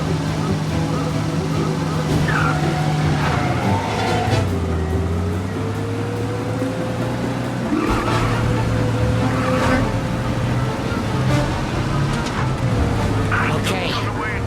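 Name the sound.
car driving and skidding in the video game Mafia Definitive Edition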